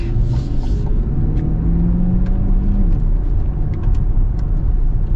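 A 2025 Chevy Corvette E-Ray in sport mode gives a steady low engine rumble and road drone from inside the cabin, with a brief rising tone in the middle and faint ticks over the continuous hum.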